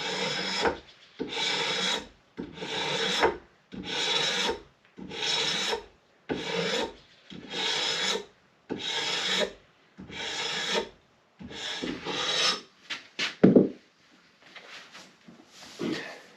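A freshly sharpened draw knife strips lacquer off a wooden axe handle in about a dozen evenly spaced rasping strokes, each a short, loud scrape close up, with quiet gaps between.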